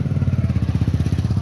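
Motorcycle engine idling close by with a rapid, pulsing low thump in an even rhythm, loud and steady over the short stretch.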